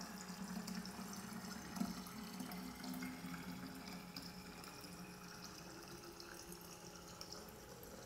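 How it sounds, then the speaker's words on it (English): Water from an Arduino-controlled filling machine with a flow sensor and pump runs steadily into a bottle, a continuous low pump hum under a soft, even stream of liquid throughout. "Now I will refill the bottle to show you the accuracy of the machine."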